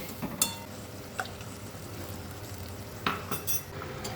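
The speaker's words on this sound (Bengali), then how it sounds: "আর একটু আমি নেড়ে চেড়ে নেব" A spoon stirs coconut milk curry for potato and pointed gourd with prawns in a pan, with a few distinct scrapes and clinks over a soft, steady simmer.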